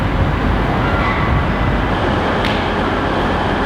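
A train rumbles loud and close as it pulls into a station, a broad steady roar of wheels and engine with no pauses.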